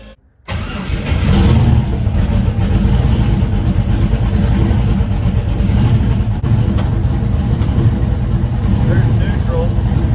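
A turbocharged Chevy or Ford drag car that has long sat unused cranks and fires, then holds a loud, steady rough engine roar with revs for the rest of the stretch while voices talk over it.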